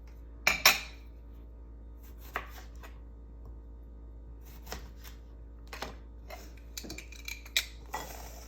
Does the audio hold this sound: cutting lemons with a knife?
yes